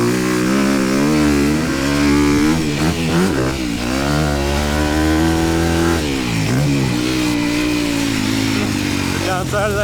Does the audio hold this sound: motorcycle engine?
yes